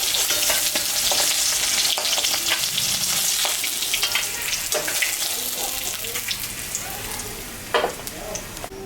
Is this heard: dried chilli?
yes